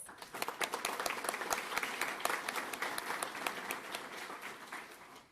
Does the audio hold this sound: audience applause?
yes